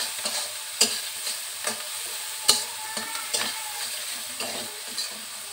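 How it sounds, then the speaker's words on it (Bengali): Onions and chillies frying in a pan for a rohu fish curry: a constant close sizzle broken by regular scraping stirs, about one every half second to second. "এবার পেঁয়াজ মরিচকে একটু ভালো করে ফ্রাই করে নেব।"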